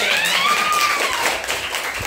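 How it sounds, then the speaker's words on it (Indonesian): Classmates clap for a student in a Grade 10 informatics lesson in Indonesia, a brief burst of clapping from a classroom group, fairly close, with a faint tonal squeal running through it. "tepuk tangan untuk Atalin"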